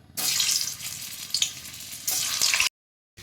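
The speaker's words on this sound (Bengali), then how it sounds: "আমি আলুগুলোকে একটু তেলে ভেজে তুলে নেব" Potato pieces sizzle in hot oil in a kadai, loud crackling frying in two long bursts separated by a brief lull, then cutting off abruptly to silence.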